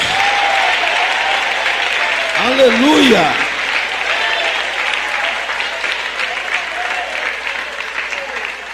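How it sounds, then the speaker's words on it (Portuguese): A church congregation claps steadily during a worship service, the dense, continuous applause mixed with voices calling out praise. One voice rises briefly with a sung or shouted exclamation partway through before the clapping carries on. "palmas misturado com glória a Deus."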